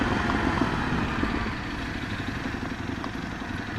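A 2018 Ducati Scrambler 1100 motorcycle engine pulls out of mid revs while riding, a steady low rumbling drone with wind rush, easing slightly in loudness partway through.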